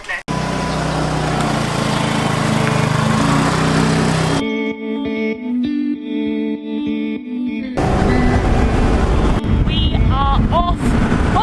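A rented scooter in Ninh Binh, Vietnam, pulls away with a buzzing small-engine drone and heavy wind rush. The engine drops to a quieter stretch, then returns loud as the ride picks up.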